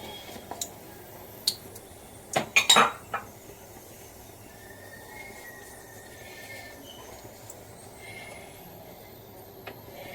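A lid is set over a pan of mustard oil in a home kitchen, a brief cluster of close metallic clatters, then a quiet room.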